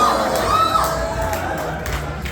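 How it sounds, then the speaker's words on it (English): A crowd at a drag show cheers and whoops loudly, with shouts and a whistle rising over the din in a short, continuous burst. "let's give a big round of applause for Colin"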